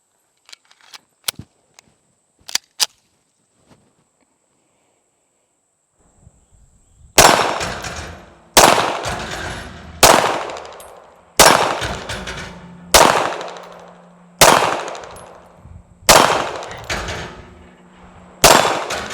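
Pistol shots from a CZ A01-LD ring off steel targets, about nine sharp impacts at steady intervals, each a loud crack followed by a ringing decay, preceded by a few faint clicks and clanks.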